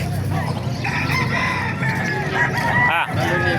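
Bulik roosters crowing at a busy chicken market in Calumpit, Bulacan, with clucking fowl and crowd noise throughout and one crow rising clearly near the end.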